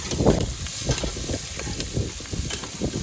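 Chopped onions sizzle and hiss steadily in hot oil in a pan while being stirred, cooked as part of a pomfret (paplet) curry, with soft scraping clicks from stirring over the constant frying crackle.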